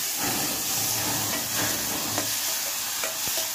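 Tomatoes tossed into a hot pan over a wood-fired stove, giving a steady loud sizzle and hiss with occasional stirring scrapes, no talking.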